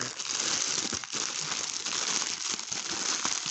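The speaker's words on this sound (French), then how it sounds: "Alors, la deuxième, on va ouvrir le sachet." The plastic bag of a diamond painting kit being opened, with continuous close, loud crinkling and rustling of plastic for several seconds and no voice over it.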